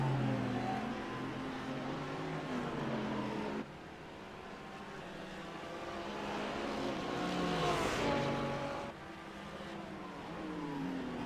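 GT3 race cars, a Lamborghini, a Mercedes and a BMW, racing at Circuit Gilles Villeneuve in a racing game, with sustained engine roar rising and falling through gear changes and one car swelling past, no talk.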